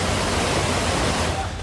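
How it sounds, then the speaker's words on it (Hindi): A waterfall in news footage sends down a rushing torrent of water, heard as a dense, steady, close roar for a brief moment. "झरने का तेज बहाव"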